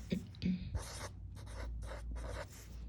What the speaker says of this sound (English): So now I'm going to write.